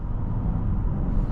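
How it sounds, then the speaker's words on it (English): Cabin of a 2019 Audi A8 L 55 Quattro under acceleration, a steady low engine and road hum, muted and smooth, with no talk. "Very smooth acceleration, and the transmission is so, it shifts very quickly."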